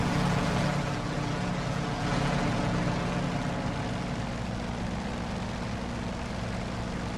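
A propeller airplane engine drones steadily in flight in the flight-simulation game Aces of the Pacific. It is a loud, continuous, even roar with no pauses and no talk.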